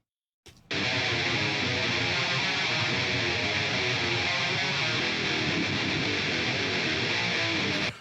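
Dense, heavily distorted electric guitars play a sustained, chugging riff, loud and continuous after a sharp start, then cut off abruptly.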